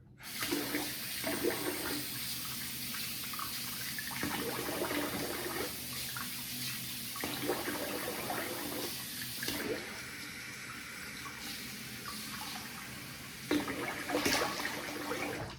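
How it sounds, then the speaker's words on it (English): Tap water runs steadily into a sink while a face is rinsed after a traditional wet shave, with the flow rising and breaking as hands splash and scoop water throughout. "I'm gonna rinse the face here."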